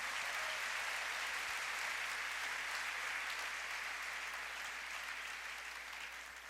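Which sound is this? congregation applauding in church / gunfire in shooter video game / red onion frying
congregation applauding in church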